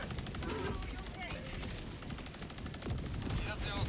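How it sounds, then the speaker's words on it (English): A machine gun sentry in the Helldivers 2 game hammering out rapid bursts of gunfire, steady and fairly close, mixed with scattered explosions and game noise while a voice talks over it. "Where the hell did that machine gun sentry go?"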